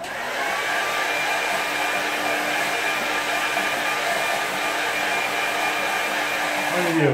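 A hair dryer blows a steady, loud whoosh across a wet watercolour painting of a snowy park scene, running continuously for about seven seconds with no talking.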